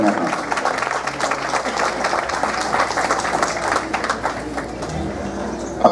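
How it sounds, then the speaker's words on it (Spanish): An audience applauds at a symphonic band concert in Ojo Caliente, a loud, continuous crowd clapping with murmuring voices mixed in throughout. "Para que pedimos un fuerte aplauso"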